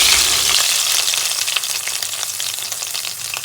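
Loud, steady sizzling and crackling of chillies frying in hot oil, continuous throughout with slight fading.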